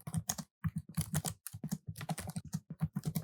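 Computer keyboard clattering as Java code is typed, quick bursts of keystrokes separated by short pauses, close and crisp with no talking.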